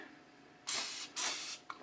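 Spray lubricant hisses onto the rails of an airsoft pistol in two long, close bursts followed by a brief final puff, with no talking.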